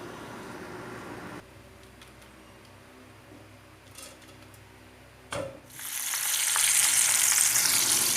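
Battered string beans frying in hot oil, a low sizzle that drops away, then a sharp knock before a loud, bright bubbling sizzle swells up and holds, close.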